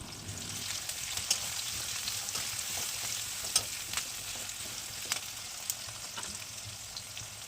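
Chopped onions and whole spices frying in hot oil, giving a steady close sizzle with occasional crackles and pops and light stirring.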